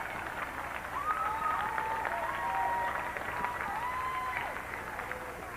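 Fans at a 1999 high school basketball game in a gym roar after an exciting play, a sustained crowd cheer with whistles and shouts rising and falling over a steady noisy din.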